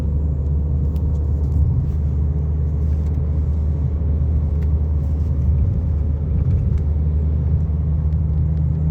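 A car travels at night on the road from Allied Gold to Divo in Ivory Coast, a loud, steady low engine and road rumble with faint ticks and rattles, continuous and unbroken.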